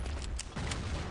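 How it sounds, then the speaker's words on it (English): Rapid gunfire in the video game Battlefield 1942, a short burst of several sharp shots heard at moderate distance over a dense rumbling battle background. "I'm just going to take a few more shots at these guys."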